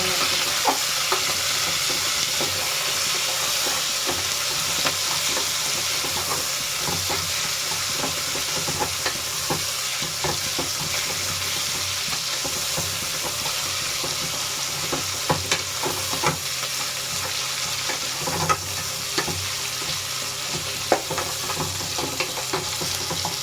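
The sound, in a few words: onions deep frying in pan for chicken biryani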